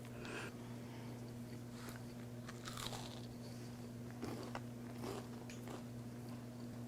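Several crisp bites and crunches of a crunchy vegan oatmeal cookie, fairly close but quiet, over a steady low electrical hum.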